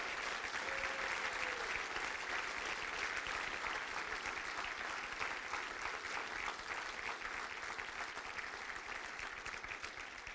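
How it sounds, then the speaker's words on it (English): A large audience at the FEMA 2015 Administrator Awards ceremony applauds the award recipients in a steady, dense round of clapping that holds for about ten seconds and eases only slightly toward the end, with no talking over it. "please join us in one final round of applause for the 2015 award"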